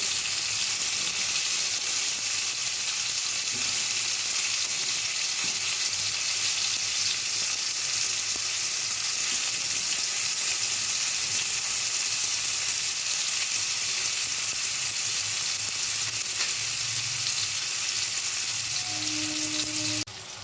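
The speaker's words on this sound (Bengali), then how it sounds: "ভাপানো ফুলকপি তো আস্তে আস্তে করে উল্টাবো, নাহলে ভেঙে যাবে ফুলকপিগুলো।" Steamed cauliflower florets, first rubbed with salt and turmeric, fry in a little oil in a pan, giving a steady, loud, continuous sizzle that runs unbroken for the whole stretch, with no talking over it.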